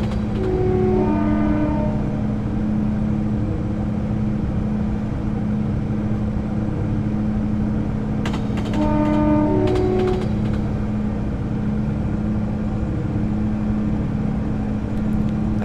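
A three-coach Class 170 diesel train in Train Simulator 2015 runs on the Glasgow Queen Street to Edinburgh line, a steady engine drone and track rumble under two long, loud two-tone horn blasts near the start and middle.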